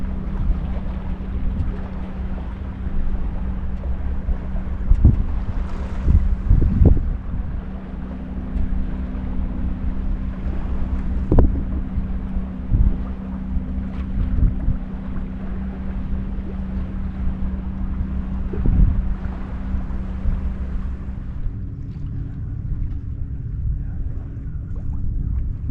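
Steady wind roars and buffets the microphone aboard a sailboat heading into exposed water, a low drone running beneath occasional thumps and knocks of the hull, with no talk.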